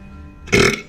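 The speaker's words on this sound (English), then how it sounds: "Sorry, big burps." A single loud, close burp, short and abrupt, rising out of near silence during a live stream, with no talking over it.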